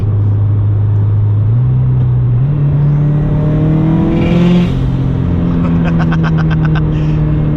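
A 600 WHP Subaru STI with a rotated turbo setup accelerates hard, its loud engine drone climbing steadily in pitch through the gears as the turbo spools, with rapid fluttering bursts near the end.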